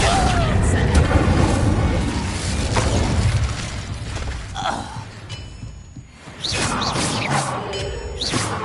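Magic spell effects in Hogwarts Legacy: loud booms, whooshes and crackling impacts of cast spells during a duel, with a bright shimmering tone near the end and a voice calling out over the effects.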